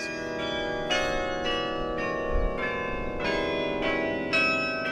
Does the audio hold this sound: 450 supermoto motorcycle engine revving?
no